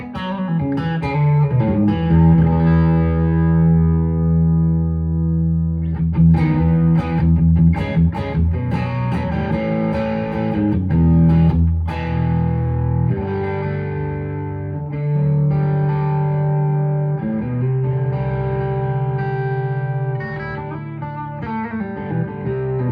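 Electric guitar on the bridge pickup through a Nobels ODR Mini overdrive pedal, gain set thick and level just under noon, playing chords and riffs with sustained ringing notes, loud and continuous with no talking.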